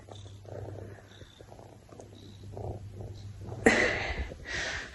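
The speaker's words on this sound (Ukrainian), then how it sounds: "таке маленьке чудо яке проситься на руці і муркоться так" A cat purrs softly and steadily up close, a low continuous rumble, with a brief rustle or sniff near the end.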